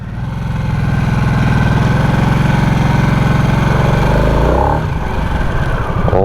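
A Harley-Davidson Nightster Special 975 motorcycle engine thrums steadily while riding, loud and close with a deep pulsing rumble, then shifts and eases off near the end.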